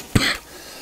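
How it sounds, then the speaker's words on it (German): A single sharp cough from a person playing a game, one short harsh burst close to the microphone, followed by quiet. "Oh, scheiß Husten immer."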